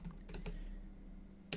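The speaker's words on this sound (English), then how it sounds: "you're going to type the same console command that we just used" Soft, close clicking of keys on a computer keyboard as a console command is typed, a few quick taps then a pause and a final louder keystroke over quiet background hum.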